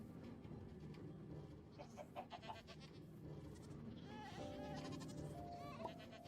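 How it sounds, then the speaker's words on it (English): Screaming goats in the video game Minecraft let out several bleating, wailing cries over a steady game ambience, moderately close with no talk. "One of them's a screaming goat."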